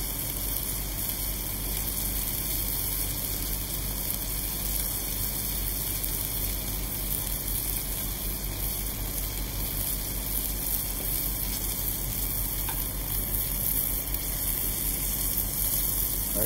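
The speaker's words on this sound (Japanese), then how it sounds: "そしてベーコンもパリッと焼き上げます。" Bacon fries crisp in a pan over medium heat, giving off a steady, even sizzle that holds throughout without pause, with no voices over it.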